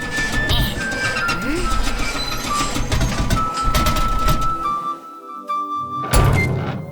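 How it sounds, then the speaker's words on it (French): Front wheels falling off a cartoon robot-driven toy train carrying apples: clattering mechanical rattles and thunks over a busy rumbling background, a sustained tone, then a sudden drop toward quiet before a final sharp clunk. "les roues avant sont tombées"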